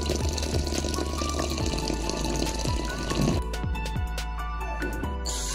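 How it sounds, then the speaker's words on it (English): Water poured over boiled instant noodles to rinse them in a home kitchen, a steady close splashing pour that thins into lighter trickling and drips near the end. "Then you can wash the noodles with water."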